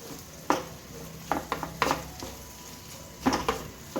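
Cauliflower curry with turmeric broth is stirred in a pot, with several distinct scraping, clinking strokes of a utensil against the pan at irregular intervals over a soft sizzle; no talking.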